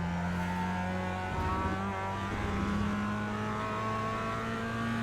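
A Mazda race car engine drones steadily in the iRacing video game, holding a sustained buzzing whine with small pitch shifts as the car is driven. It sits at moderate volume with no one talking over it.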